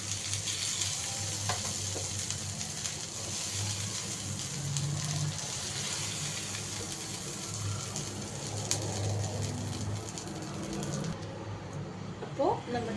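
Chicken frying in coconut oil in a home kitchen produces a continuous low crackling sizzle with occasional stirring clinks. A voice speaks softly underneath.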